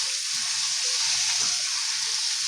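Ingredients sizzle and fry in a pan, a loud steady hiss close up with soft stirring scrapes underneath, continuous and without talk.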